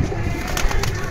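Punjabi pigeons coo softly in a brief, close burst of low, throaty murmuring, with no voices over it.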